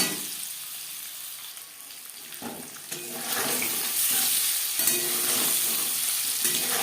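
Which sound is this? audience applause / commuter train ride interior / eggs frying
eggs frying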